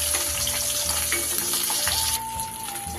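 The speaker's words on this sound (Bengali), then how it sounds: "মাছগুলো আমার ভাজা হয়ে গেল" Parshe fish fry in hot oil in a pan, a steady loud sizzle with light stirring noises throughout, no voices.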